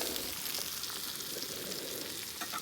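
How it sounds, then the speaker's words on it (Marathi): Fish coated in semolina sizzling steadily in a flat pan over an outdoor fire, a soft continuous crackle at close range. "मस्त मच्छी फ्राय झाली."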